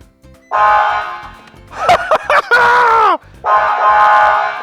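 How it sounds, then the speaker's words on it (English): A loud air horn blasts twice in long steady tones, with short excited exclamations in between. "That's what we call an air horn. So loud."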